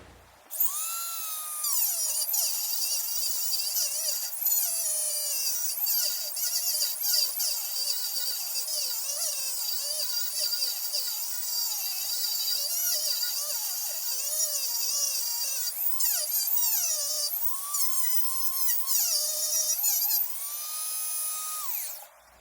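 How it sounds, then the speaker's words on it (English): A Dremel rotary tool cleans a part of a vintage copper and brass fire extinguisher, giving a close, continuous high-pitched whine that rises and dips as the bit bites into the metal for about twenty seconds without talk. "we'll get a Dremel and tackle cleaning that up a bit"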